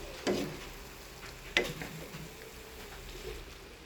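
Pansit noodles with malunggay leaves being stirred in a pan, two distinct scraping clatters of the utensil against the pan over a soft background sizzle, fairly faint and with no talking.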